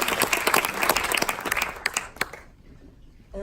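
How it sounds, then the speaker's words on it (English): A festival Q&A audience claps after a screening of the Netflix/Sundance documentary Knock Down The House, a dense burst of applause that thins into scattered claps and stops, followed by a brief voice. "Another round of applause,"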